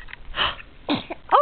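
A small person sneezes twice in quick succession, close and fairly soft, with a brief wheezy breath between the two bursts.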